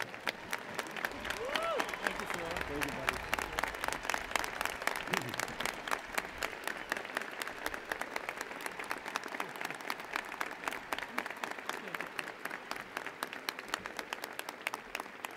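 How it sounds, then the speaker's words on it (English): A stadium crowd at the Virginia Tech commencement gives dense, sustained applause that rolls on for the whole stretch, with a voice briefly heard over it near the start. "give a round of applause for the outstanding leadership of Dr."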